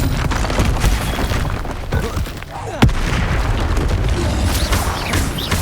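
Spell blasts from the Confringo spell in Hogwarts Legacy boom amid continuous combat noise, with a sharp crack about halfway through standing out above the dense, busy battle din.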